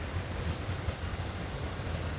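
Steady wind roars and buffets a camera microphone during rain at the Soo Locks in icy conditions, a continuous loud rumbling gust noise with no speech.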